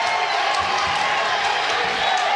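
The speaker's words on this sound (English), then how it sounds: "Listen to the crowd." Basketball crowd at a Class 3 district championship game, a steady broadband roar of cheering that fills the gym continuously from start to end, loud and close.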